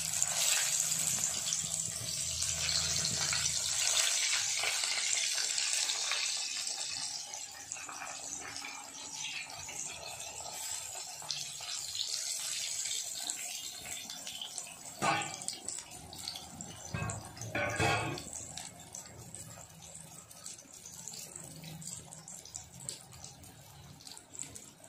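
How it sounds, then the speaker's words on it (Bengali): Eggplant slices shallow fry in hot oil in a pan, making a continuous loud sizzle that eases slightly after several seconds, with occasional sharper crackles and spits and no speech. "তেলটাকে গরম করে নিব, ফের বেগুনটাকে শ্যালো ফ্রাই করব।"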